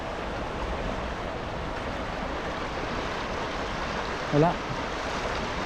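Strong river current rushes in a continuous broadband roar, loud and steady, with a brief voice near the end.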